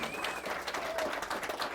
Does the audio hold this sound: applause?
yes